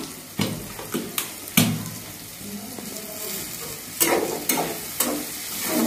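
Broad beans and potatoes are stirred in a frying pan, with a soft sizzle beneath intermittent scraping clacks of the spoon against the pan.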